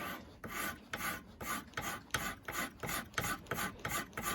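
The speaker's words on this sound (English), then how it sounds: "the main goal here is to work out the draw filing" Draw filing on a steel knife blade for a rifleman's knife makes rhythmic rasping strokes, about eight even back-and-forth passes in close succession, crisp and near with short pauses between.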